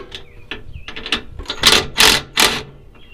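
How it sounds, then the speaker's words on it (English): Cordless impact wrench working during a suspension install on a Ford F-350 Super Duty truck, several sharp, loud rattling bursts close by with brief mechanical clicks in between. "you can't beat a cordless impact wrench"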